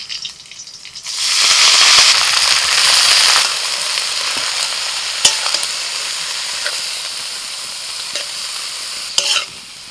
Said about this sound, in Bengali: ফোড়ন হয়ে গেছে, এবার সরষে শাকগুলো দিয়ে দিচ্ছি।